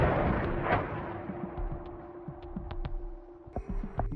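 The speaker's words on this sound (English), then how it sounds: "followed by missile impacts, with explosions lighting up the sky and triggering widespread power outages" Missile impacts and airstrike explosions in a war zone boom out as a heavy blast followed by a run of deep thuds and sharp cracks, some near and some distant, with no voices.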